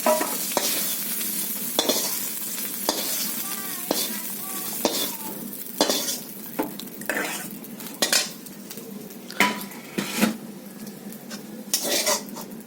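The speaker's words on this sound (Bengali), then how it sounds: "আলু বেগুনটা আমার ভাজা হয়ে গেছে, তুলে নিচ্ছি" Fried potato and eggplant pieces lifted out of a pan, with repeated metal clinks and scrapes of a spatula against the pan over a light background sizzle, close and alone.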